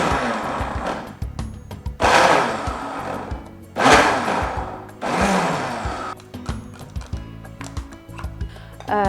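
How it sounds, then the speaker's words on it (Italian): A small electric food chopper whirs in three short, loud bursts with pauses between while mincing celery, followed by lighter clattering and rattling. "andiamo a tritare leggermente il sedano."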